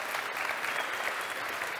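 An audience at a talk event applauds in a dense, steady wash of clapping that lasts throughout at a moderate level.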